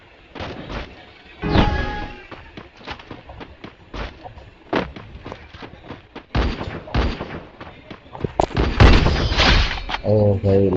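Shotgun blasts in the video game Free Fire Max, a string of sharp loud booms and thumps scattered irregularly through the stretch, some in quick bursts, with game effects around them.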